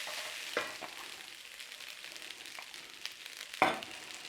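Egg fried rice with green onions being stirred in a hot pan, a soft steady sizzle with a few sharp scraping clicks of the utensil against the pan, fairly quiet and close, no talking.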